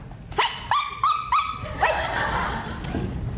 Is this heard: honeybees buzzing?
no